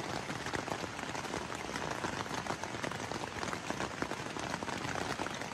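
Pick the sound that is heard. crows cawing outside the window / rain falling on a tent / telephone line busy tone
rain falling on a tent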